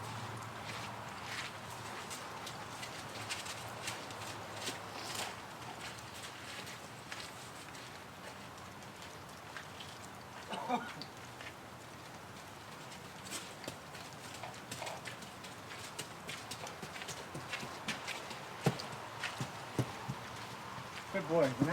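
A horse walking during an umbrella desensitisation session, its hooves clip-clopping in an uneven, close rhythm while a person talks over it.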